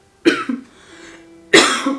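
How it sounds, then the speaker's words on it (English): Two sharp, loud coughs a little over a second apart, close up, with no speech around them. "I'm getting like a cough attack here."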